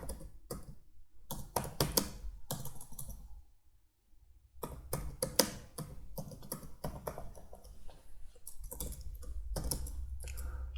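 Keys clatter on a computer keyboard as a description is entered in QuickBooks, in quick bursts of close, crisp keystrokes with one brief pause partway through.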